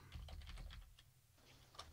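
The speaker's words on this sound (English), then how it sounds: "you guys probably hear me typing in the background" Rapid keyboard typing, clicks in quick irregular bursts with a short pause midway, close and fairly quiet against a low background hum.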